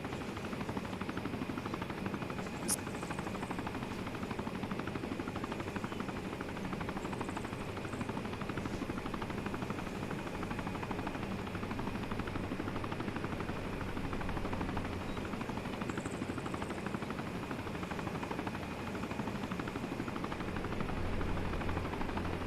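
A helicopter taking off in a video game, its rotor drone and engine whine continuous and fairly loud throughout, with no talk.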